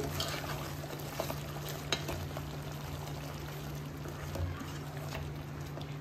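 Chicken simmering in butter chicken masala on a medium flame, with oil rising to the surface: a steady, close sizzle and bubble runs throughout, with small scrapes and taps from stirring.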